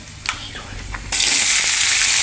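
Onion, green chili and tomato with curry leaves and chopped vegetables hit hot oil in a pan for rava upma. A faint stir comes first, then a sudden loud sizzle that holds steady to the end.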